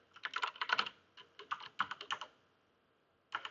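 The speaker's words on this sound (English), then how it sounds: "you'll put something in here, and then type in a password" Quick bursts of keystrokes on a computer keyboard enter a password in clusters with short pauses, then one last brief tap. The typing sounds close and clear, with no talk.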